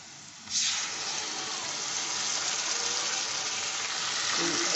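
Garlic, onion, ginger and green chili paste hits hot oil with a sudden loud sizzle that settles into a steady, close, continuous frying hiss, with no talk over it.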